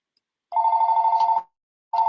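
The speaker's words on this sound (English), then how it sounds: "There is the phone." A telephone bell ringing: one electric trill of almost a second, a brief pause, then the start of a second ring, loud, close and alone.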